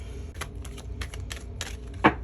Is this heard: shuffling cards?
yes